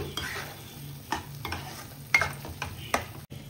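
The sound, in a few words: frying paneer butter masala gravy until oil separates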